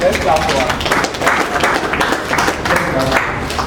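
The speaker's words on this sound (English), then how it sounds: "let's clap for her" A group at a youth boot camp session claps for a speaker, a close, loud burst of uneven hand claps with voices mixed in throughout.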